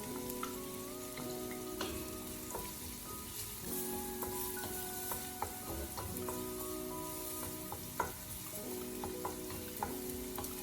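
Garlic sautéing in a pan for chicken tinola, a steady sizzle broken by repeated stirring and scraping strokes, close up with no talking.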